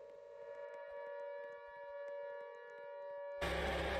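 The Siren Head creature in a Roblox elevator game blares a steady, droning civil-defense-style siren tone, fairly quiet, before a sudden burst of harsh loud noise cuts in near the end.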